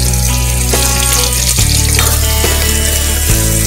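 Chillies and onions hit hot oil in a pan for tomato rice, giving a loud, close, continuous sizzle with a few low thumps from stirring or additions. No one speaks.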